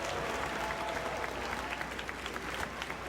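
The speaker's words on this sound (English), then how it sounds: "you hear the applause from the crowd" A wrestling arena crowd applauding steadily, a dense wash of clapping that holds at an even level throughout.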